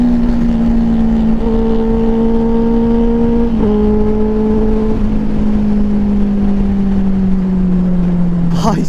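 A motorcycle engine revs hard as a rider pulls a wheelie on a highway ride. Its buzzing tone slides down in pitch, dips, then steadily drops under loud, constant wind rush.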